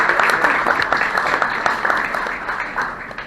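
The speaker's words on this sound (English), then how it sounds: "so big round of applause just for that" Audience applause for birthday guests at the Groundhog Day breakfast in Woodstock, Illinois: a crowd claps steadily and fairly loudly throughout, with no clear voices over it.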